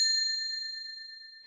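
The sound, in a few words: small bell above a cafe door chiming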